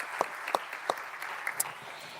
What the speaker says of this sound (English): Please, a warm applause to all our panelists.